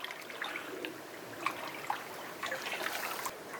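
Cold water trickling and splashing into a wooden tub at a glamping site in Wales, a steady low running dribble with a few brighter splashes and faint voices in the background.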